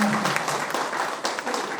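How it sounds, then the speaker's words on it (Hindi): An audience at a community gathering on the Indian constitution breaks into applause, a dense, steady wash of many hands clapping together, loud and near, sustained without pause for the full short stretch. "इसलिए अपने सम्मान में एक बार ताली तो जरूर दीजिए।"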